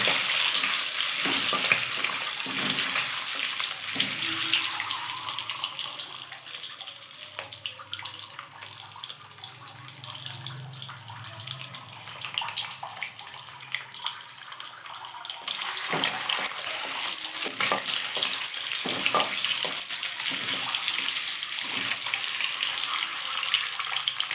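Eggs frying lightly in hot oil in a pan give off a steady, dense sizzle that carries on alone for about twenty-four seconds, easing somewhat in the middle before building again.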